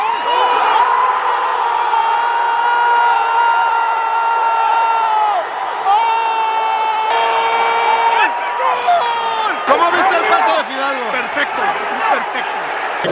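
A stadium crowd at a football match roars and shouts after a goal, with a dense, sustained wall of cheering that swells and churns throughout, loud and close, mixed with whistles and excited voices.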